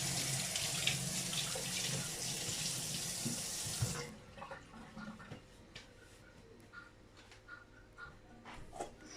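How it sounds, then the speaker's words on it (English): Hands washed under a running kitchen tap while cooking dinner: a loud, steady gush of water for about four seconds, then it cuts off, leaving faint drips and light handling noises. "And then I just wash my hands."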